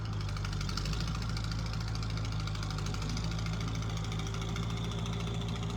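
A Ford 8N tractor engine running while plowing a small garden: a low, steady, rhythmic chugging drone, fairly quiet and unbroken throughout.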